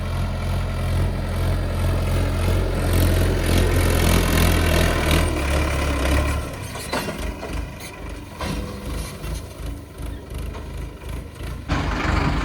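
A farm tractor loaded with harvested maize runs with a loud, close engine drone that is deep and steady at first, then rougher and slightly quieter as it moves off through the field.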